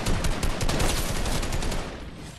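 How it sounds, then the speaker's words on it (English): Gunfire in the Fortnite video game: a loud, dense stream of rapid automatic shots that thins out and fades in the last moments, with no talking. "They just shot at me"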